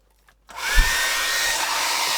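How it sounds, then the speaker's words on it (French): A hair dryer switches on and blows steadily, a loud, close, continuous airy roar with a faint whine, used while making a small rag doll. "Ensuite vous allez prendre le sèche-cheveux."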